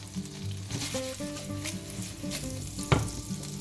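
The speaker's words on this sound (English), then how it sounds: "Sauté the garlic and the chili." Garlic and chili sautéing in oil in a pan, a close, steady sizzle with light stirring and one sharper clack near the end.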